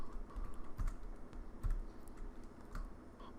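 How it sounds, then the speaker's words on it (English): Numbers typed on a computer keyboard while entering an Excel formula, a quiet, irregular run of soft key clicks with a few sharper taps, close by and with no talking. "I can either type in the numbers I'm trying to do"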